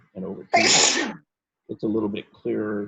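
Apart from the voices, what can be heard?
sneeze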